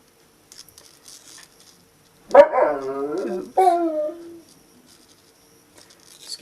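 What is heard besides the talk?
dogs barking and howling in the background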